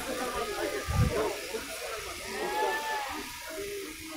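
Sheep at a livestock market in Kyrgyzstan give short, fairly faint bleats amid the murmur of a crowd talking nearby.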